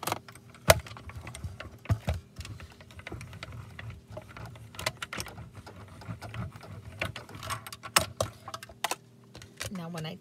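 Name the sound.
running plates through mini stamp and emboss machine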